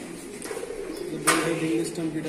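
Pigeons coo softly at a pigeon farm with a low, steady murmur of birds in the background and a brief clatter midway. People talk faintly nearby.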